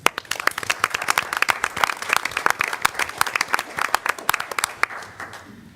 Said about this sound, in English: So we'll just give a hand clap for Juneteenth.